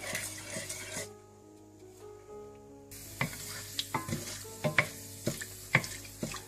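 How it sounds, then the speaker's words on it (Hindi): Whole dried red chillies and curry leaves fry in oil with fenugreek seeds, a soft sizzle with a brief lull, then a series of sharp spatula clinks and scrapes against the pan, close and fairly quiet. "ये साबुत सुर्ख मिर्चें और कड़ी पत्ता, इसको आप थोड़ा सा भून लें।"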